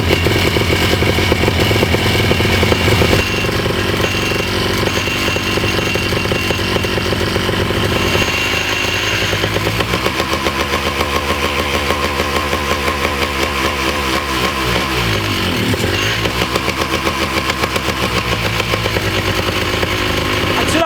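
A small paramotor engine idles while it warms up after a 50-hour service, running as a loud, close, continuous buzzing putter. The tone shifts slightly partway through, but the idle stays steady.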